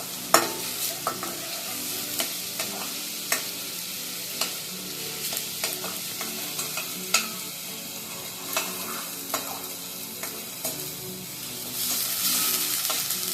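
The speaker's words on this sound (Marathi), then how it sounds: "आलं लसूणची पेस्ट टाकूयात आणि चांगलं मिक्स करून घेऊयात." Ginger garlic paste fries in a pan while a spoon stirs it, producing a crackling sizzle broken by regular sharp scrapes and taps against the metal, with the frying swelling louder toward the end.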